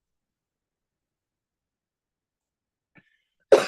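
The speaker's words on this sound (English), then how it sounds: "I don't know if this cough is ever going to go away" After near silence and a faint click, a single sharp cough bursts out close by at the very end and trails off quickly.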